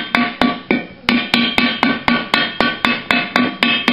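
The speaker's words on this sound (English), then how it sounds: "get the hammer again, and gently" A hammer taps a bearing cone into a Dodge 350 brake hub, about sixteen sharp metallic strikes in a steady rhythm, close and clear with ringing decay and no talk.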